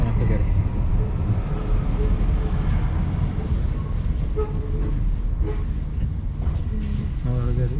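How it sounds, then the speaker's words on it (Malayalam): A train at a railway station platform, with a continuous low rumble and scattered tonal squeals and brake-like tones over steady noise, fairly close and filling the whole stretch. "Just railway സ്റ്റേഷനിലെത്തിയിട്ടുണ്ട്."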